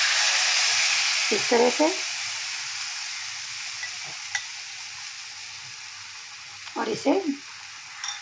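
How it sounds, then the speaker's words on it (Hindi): Eggless maida omelette batter poured into a hot pan, a steady broad sizzle and hiss throughout, loud at first and easing slightly, with a person speaking briefly over it. "चलिए ये गर्म हो चुका है, इसमें डाल देते हैं बैटर को"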